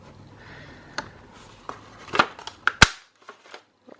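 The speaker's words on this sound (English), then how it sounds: "I'm going to punch out like a half circle right here, but we have this fold, and I'm actually just going to punch into that fold" A handheld paper punch bites a half-circle into the fold of a journal page: a few soft rustles of paper, then one sharp, close snap of the punch, followed by faint handling sounds.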